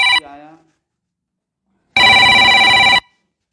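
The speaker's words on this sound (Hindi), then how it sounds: "बार बार फोन करके लोग डिस्टर्ब कर रहे हैं यार" A phone ringtone sounds loud and close in a single steady burst of about a second, following a short cut-off bit of speech and a silent pause.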